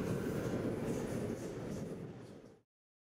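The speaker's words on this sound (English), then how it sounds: "their undefeated army left by train" A train rolls out of São Paulo during the 1924 revolt with a steady, heavy rumble that eases slightly before cutting off abruptly.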